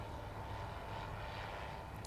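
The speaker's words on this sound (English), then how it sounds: "Like I'm right next to an airport. Can you see a plane fly?" An airplane flies overhead near an airport, heard as a steady, distant engine roar that stays level and fairly faint for the whole stretch.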